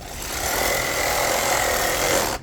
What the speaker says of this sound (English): I'm gonna use this reciprocating straw